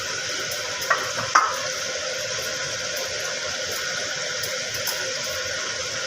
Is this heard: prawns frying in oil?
yes